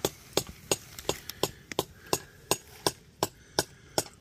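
A hammer strikes rock along a logging road to break off copper ore samples. About a dozen sharp, evenly spaced blows ring out close by with nothing else heard.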